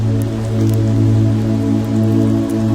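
Raindrops tap against a window in soft, scattered ticks over a steady, low, humming musical drone. The sound is calm and continuous, with no voices.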